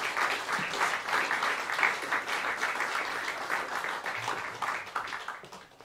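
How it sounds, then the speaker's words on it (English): An audience at a new-music concert gives a warm round of applause as performers come to the stage, sustained crowd clapping with a mildly swelling then easing level over several seconds. "Please give them a warm round of applause."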